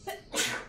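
A single sharp sneeze, a brief intake followed by a loud burst, close up.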